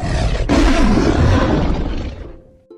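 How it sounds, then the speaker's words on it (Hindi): A lion lets out one loud, close, rumbling roar that swells quickly and then fades away, heard on its own without any speech. "लेकिन एकदम एक शेर के दहाड़ने की आवाज़ आई।"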